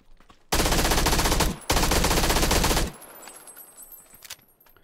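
Automatic gunfire in PUBG: two long, loud, sustained bursts a little over a second each, separated by a brief gap, followed by quieter rattling and ambient game noise with no talking.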